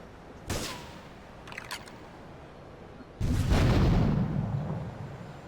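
Gunfire from a weapon in Grand Theft Auto 3: one sharp blast, a brief crackling burst, then a heavy booming roar that slowly fades, loud and with no talking.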